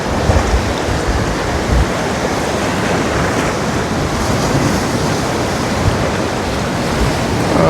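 Rough, turbulent sea waves crashing on a beach in Jaffna, a loud continuous roar of surf and churning water with wind buffeting the microphone, sustained without pause and no voices.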